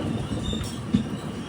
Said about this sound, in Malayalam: ആലുവയിലേക്ക് ഇതാ ട്രെയിൻ എത്തുകയാണ്